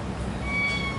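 A cat meows once, fairly close and clear, with a steady hum in the background.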